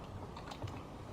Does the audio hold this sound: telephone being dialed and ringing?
no